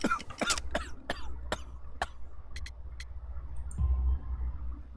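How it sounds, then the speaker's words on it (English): A series of sharp, separate coughs, close up, spaced unevenly over a low steady background rumble. "You have a severe cough."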